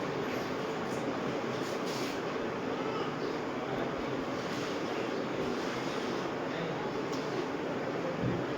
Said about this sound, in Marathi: ट्रेन आहेत